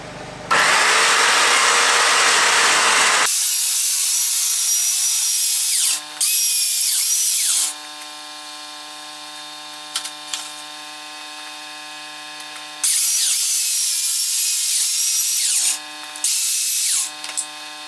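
A power saw cuts through camper ceiling material in several loud bursts, each running a few seconds, separated by quiet stretches with a low electrical hum underneath.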